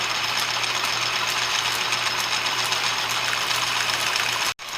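A drill bores a clearance hole slightly larger than 1/4 inch through wood for a sturdy toy fishing pole handle, giving a steady, loud whirring drone that runs unbroken and cuts out just before the end.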